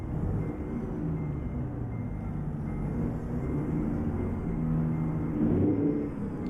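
An old, loud truck engine drives steadily in American Truck Simulator, a deep continuous rumble that stays close and loud throughout with a slight swell near the end, no talking.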